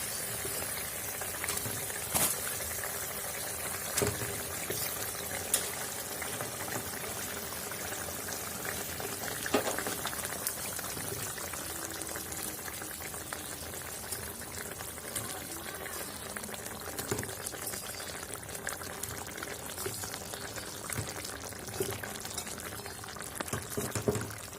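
Water at a steady rolling boil in a pot as cauliflower florets go in, a continuous bubbling hiss with occasional small splashes and clinks, close and even throughout with no voices.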